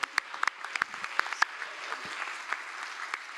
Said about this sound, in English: So one more time, a big round of applause for